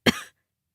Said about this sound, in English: The sound of coughing came from the next cell.